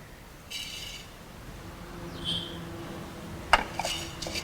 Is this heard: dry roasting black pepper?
yes